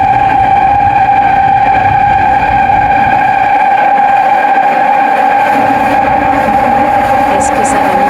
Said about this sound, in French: écoutez ceci quand les rames de l'Oedo abordent un virage.